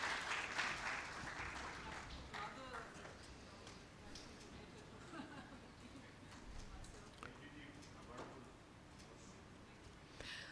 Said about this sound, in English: Ma'am Musarrat Jabin, please give her a round of applause